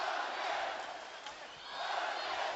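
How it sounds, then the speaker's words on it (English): A large arena crowd roaring and cheering at a UFC bout in Kazakhstan, a dense sustained wash of voices that swells, dips briefly and rises again. "Man, you hear that crowd."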